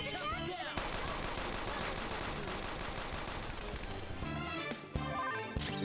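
Gunfire in the Persona 5 video game, heard as dense, loud bursts of rapid shots and crashes that fill most of the stretch, with a few sharp hits near the end and no talk.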